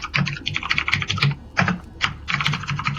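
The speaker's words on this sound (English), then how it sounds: "Time does do serious typing." Rapid, heavy keystrokes on a computer keyboard, clattering in quick close bursts with short gaps between runs, no voices over them.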